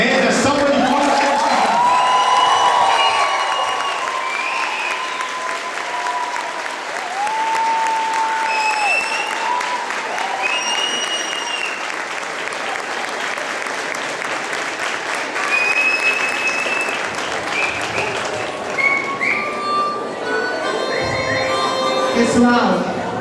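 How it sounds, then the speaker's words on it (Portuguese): Theater audience applauding and cheering after a stage play, loud sustained clapping with whoops and shouts across the whole stretch, voices calling out over the continuous crowd noise. "se vocês gostaram, mais uma vez, uma mega salva de palmas"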